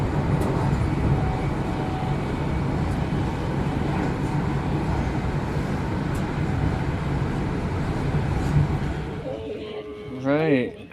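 Steady rumbling interior noise of a running passenger train carriage in Scotland runs throughout, with a brief voice near the end.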